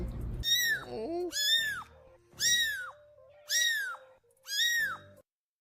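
Kittens meow five times in a row, high, rising-and-falling cries spaced about a second apart, close and clear against a quiet background.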